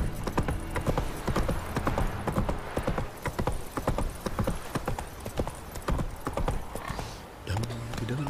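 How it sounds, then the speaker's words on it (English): A horse gallops in The Witcher 3 with steady, rapid clip-clop hoofbeats close up and a brief whinny near the end. A voice speaks over the hooves. "Run, Roach"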